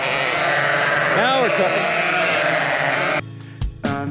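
Sheep bleat eagerly for grain shaken in a bucket, several wavering calls overlapping near and loud across a steady farmyard din, with a person speaking over them and clattering bursts toward the end.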